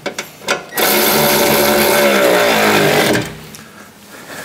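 A power tool runs in one steady, loud burst of about two and a half seconds, tightening side step fixings onto a Land Rover Defender chassis, with a few short knocks before it and quieter handling afterward.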